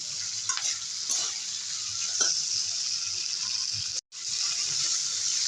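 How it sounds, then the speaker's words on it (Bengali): Fish curry with spring onions simmers and sautés with a soft continuous sizzle and occasional stirring scrapes, close up, with a sudden brief dropout near the end before the sizzle resumes. "এবার দু মিনিটের মতো কষিয়ে নেব"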